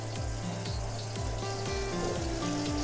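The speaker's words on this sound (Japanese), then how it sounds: "弱火で蒸し焼きで" Japanese hamburg steak steam-frying over low heat in a covered pan, a steady dense sizzle and bubbling with faint rhythmic clicks, close and continuous.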